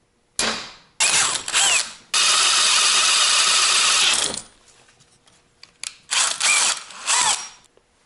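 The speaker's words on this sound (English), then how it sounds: "Guess I probably could have drilled a little bit bigger" A power drill works on a metal part during an electric-to-mechanical throttle pedal conversion on a Ford F250 Cummins swap, whirring in several short bursts and one long steady run, close and loud, with quiet pauses between.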